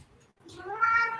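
A house cat meows in a drawn-out, rising call that swells in the second half, loud and close, after a short quiet gap at the start.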